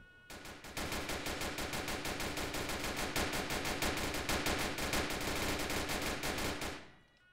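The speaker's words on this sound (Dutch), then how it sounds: "hij gaat schieten" Rapid automatic gunfire in the video game Emergency Hamburg, a loud sustained burst of evenly spaced shots running for several seconds before cutting off abruptly.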